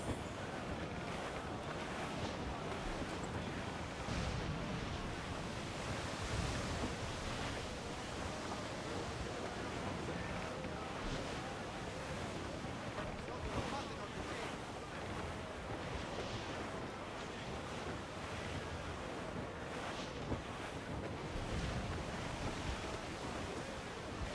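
Stormy sea surf and heavy wind roar without pause around a sailing ship in Assassin's Creed 4 Black Flag, a loud, dense, steady wash of water and gusts.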